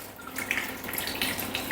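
Warm water pours into a Thermomix bowl for bread roll dough, a steady splashing trickle close by that runs without a break and grows slightly louder toward the end.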